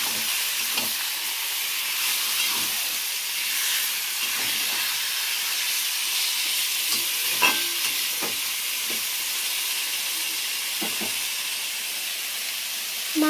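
Marinated meat with dried red chillies sizzles and hisses steadily in a pan, with occasional scrapes and knocks of a spoon as it is stirred, a close, constant frying sound without talk.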